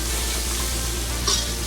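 Onions with ginger and green chili fry in a hot pan for a chicken dish, a loud, steady sizzle with scraping stirring strokes close by and a brief sharper clatter near the end.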